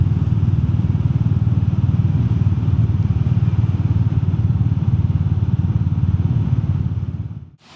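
A Royal Enfield Meteor 350 single-cylinder cruiser motorcycle rides past close up with a steady, loud thumping engine drone that holds for several seconds before cutting off abruptly at the end.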